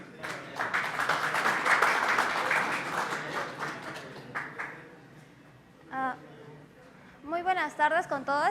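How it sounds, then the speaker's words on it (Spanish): A burst of applause from a conference audience, loud at first then fading out, followed by a person beginning to speak. "Recibámoslas con un fuerte aplauso."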